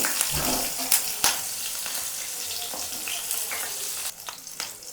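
Green chilies frying in ghee in a pan for masala khichdi, a steady close sizzle with crackling pops and a few sharp spatters, with no voice.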